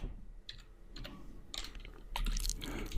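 Computer keyboard keys typed while writing CSS code, with quick clusters of close, crisp clicks at a moderate level separated by short pauses and no talking.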